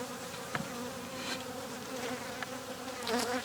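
Honey bees buzz around an opened beehive during spring cleaning, a dense, continuous hum with individual bees droning close past, loud and near, with no talking.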